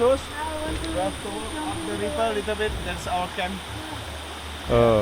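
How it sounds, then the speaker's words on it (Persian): A jungle river in Sumatra rushes steadily in the background as a close voice talks over the continuous broadband hiss of flowing water. "رسیدیم به این رودخونه."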